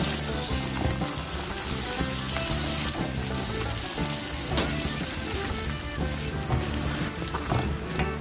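Thai dough sticks (pa thong ko) deep-fry in hot oil in a pan, giving a steady, loud, close bubbling sizzle that runs continuously throughout with no talking.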